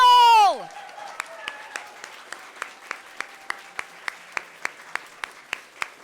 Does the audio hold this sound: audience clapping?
yes